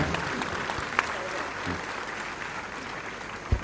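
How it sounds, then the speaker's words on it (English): An audience applauds two Nobel laureates at a university felicitation ceremony, steady sustained clapping from a hall full of people, fairly distant, with a couple of louder nearby claps. "let us put our hands together for a big round of applause to these two laureates"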